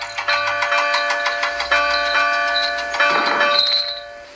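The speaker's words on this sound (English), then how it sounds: "The bell chimed cheerfully as it was loaded onto Duncan's flatbed." A big bell in a large wooden frame chimes while being loaded onto a flatbed wagon, ringing in steady repeated strikes with sustained ringing tones, then a short rustling clatter near the end.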